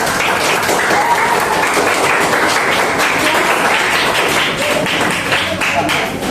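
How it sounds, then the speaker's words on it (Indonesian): A dense, steady wash of applause from high school students in a Jakarta classroom, loud and continuous without a break. "Tepuk tangan dong buat teman-temannya"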